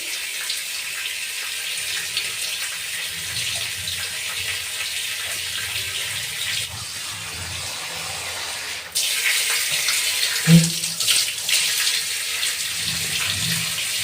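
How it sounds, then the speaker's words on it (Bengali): Tap water runs steadily and close over mutton pieces being washed in a sink, with a continuous hiss that grows louder partway through and soft handling sounds underneath. "মাংসটা ভালো করে ধুয়ে নেব পরিষ্কার করে।"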